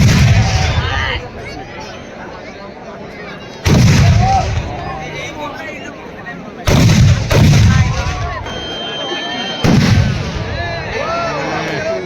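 Fireworks bursting at a Ravan effigy-burning festival in Ayodhya: several loud, deep booms a few seconds apart, each trailing into crackle and rumble over a murmuring crowd.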